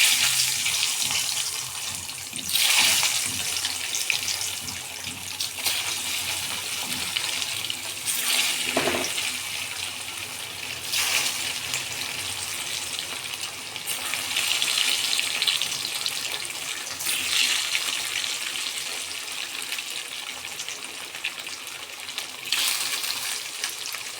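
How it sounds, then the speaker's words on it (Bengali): Eggs seasoned with salt and turmeric fry in hot oil in a wok, giving a loud, steady, close sizzling hiss that surges and eases throughout, with no voices. "এখন এর মধ্যে ছেড়েই ডিমগুলোকে আমি ভেজে তুলে নেব"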